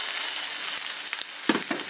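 A scotch fillet steak sears in a pan with a bright, steady hiss. A few short bumps and clatters come near the end. It is close and fairly loud, with no talking.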